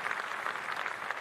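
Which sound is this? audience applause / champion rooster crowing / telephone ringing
audience applause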